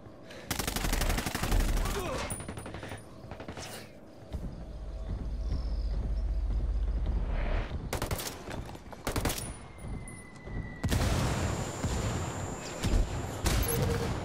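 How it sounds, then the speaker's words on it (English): Gunfire in the Ghost Recon Wildlands game: loud bursts of rapid shots in several clusters, with rumbling and other game sounds between volleys. "Under a lot of fire over here."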